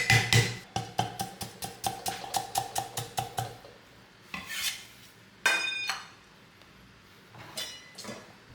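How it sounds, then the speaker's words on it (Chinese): Kitchen knife smashing and then slicing a piece of ginger on a cutting board: a quick series of sharp, close chopping knocks, followed by a few scattered scraping and tapping sounds, with no voices. "准备1块姜，拍散后切片"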